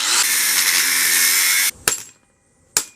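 A power tool cuts through a car's steering column lock mechanism with a loud, steady high-pitched grinding whine that stops abruptly, followed by two sharp metallic clicks in the quiet that follows.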